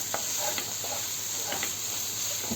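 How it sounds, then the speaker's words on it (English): Onions get stirred into vegetables frying in a pan for samosa filling, a constant close sizzle broken by several light scraping stirs, moderately quiet, with no one speaking. "Now we're going to put our onion in, give it a mix"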